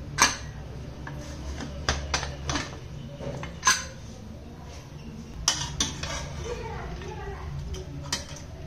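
A pressure cooker holding goat leg soup is opened after three whistles, with scattered metallic clanks, clicks and clinks of the lid and utensils at close range, some sharp and others soft.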